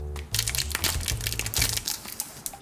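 A JoJo's Bizarre Adventure sticker wafer wrapper is torn and opened, giving close crinkling and crackling of thin plastic film in quick bursts, with a low hum underneath at first.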